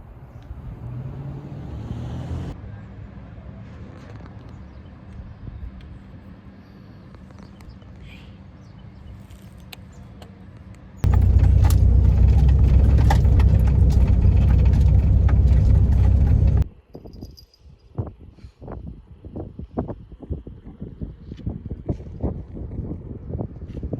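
A van pulling away in second gear, its engine and wind roaring loudly for several seconds in the middle, set between quieter stretches of rattles, knocks and rustling.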